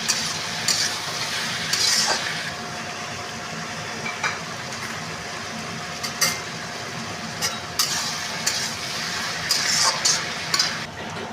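Vegetables for chow mein fry in a pan with a steady sizzle while a utensil stirs them, scraping and clattering in irregular bursts. No one speaks.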